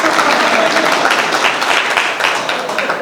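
An audience applauds at a business talk, dense continuous clapping that stays loud and close throughout, tapering slightly toward the end.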